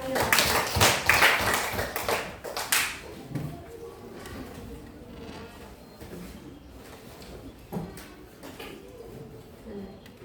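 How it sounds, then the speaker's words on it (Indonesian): A class of students claps for a classmate in a schoolroom, with a dense burst of clapping in the first few seconds that fades to scattered taps and room noise. "Coba tepuk tangan untuk teman kita"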